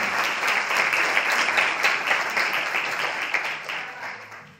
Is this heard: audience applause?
yes